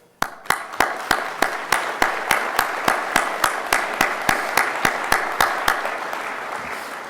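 An audience at a college graduation ceremony claps in steady unison, sharp evenly spaced beats repeating for several seconds in a large room.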